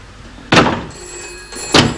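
An indoor door shuts twice with two loud, sharp thuds about a second apart, with a faint ringing tone in between.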